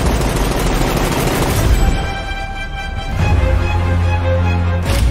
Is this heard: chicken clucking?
no